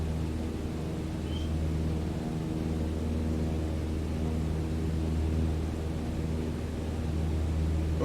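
Airplane engine drones during a takeoff climb at 75 knots in Microsoft Flight Simulator 2020, a faint, steady low hum with an even, unbroken rumble and no voices.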